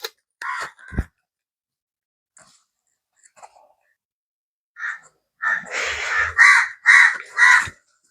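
A crow caws several times near a coconut tree, first a couple of isolated calls, then a rapid run of loud, harsh caws close by.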